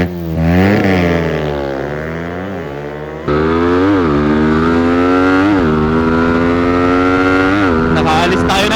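A two-stroke RXT 135 motorcycle accelerates hard nearby, its loud buzzing engine note climbing through gear shifts with rising and falling pitch sweeps, continuous and dominant throughout.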